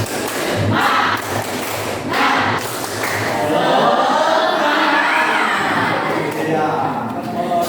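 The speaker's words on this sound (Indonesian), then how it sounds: "Tepuk semangat." A class does the rhythmic scouting-style tepuk semangat clapping chant: a few sharp group claps, then many voices chanting together, loud and close.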